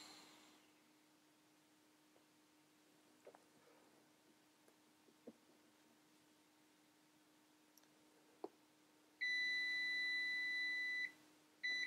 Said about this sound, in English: see if we get an improvement on the functionality of the continuity buzzer